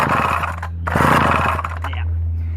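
McCulloch 1-46 chainsaw running just after its first start, a rough buzzing engine with a brief dip in the middle before it picks back up, close and loud.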